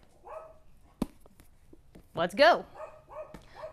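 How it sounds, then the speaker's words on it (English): A few short dog barks ring out in quick succession, fairly close, between bits of a person talking. "sorry if you can hear the dogs barking, it's the neighbor's dogs."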